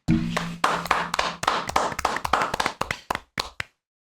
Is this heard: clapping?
yes